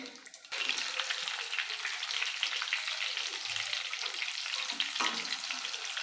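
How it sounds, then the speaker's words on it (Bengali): Pointed gourds stuffed with prawns fry gently over low heat, giving a soft, even, close sizzle that starts abruptly after a brief moment and continues steadily with a faint clink; no talking. "মৃদু আঁচে যদি ভাজা হয় বেশ ভালোভাবে ভিতর দিক দিয়েও পটলটা ভাজা হবে"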